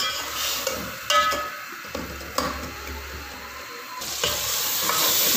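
Spiced masala of turmeric and salt frying in a pan for an aloo baingan curry, with a steady close sizzle and sharp scraping stirs around 1, 2.4 and 4 seconds, no voices.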